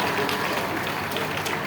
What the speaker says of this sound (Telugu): గట్టిగా చప్పట్లు కొట్టాలి అందరు